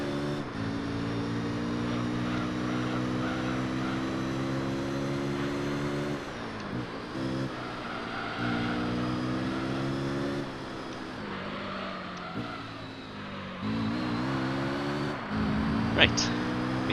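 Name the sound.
race car engines in Gran Turismo 3 video game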